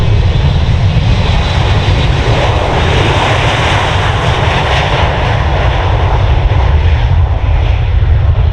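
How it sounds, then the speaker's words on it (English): Fixed-wing aircraft engine roaring loud and steady at the Farnborough Airshow as the plane passes close overhead, a continuous broadband drone with no talk. "As the aircraft approaches the ground line, and do a 360-degree turn."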